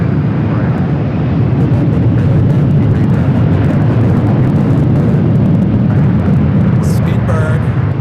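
An Air France airliner takes off at Los Angeles airport with a loud, continuous broadband jet roar throughout, and a brief faint chirp near the end.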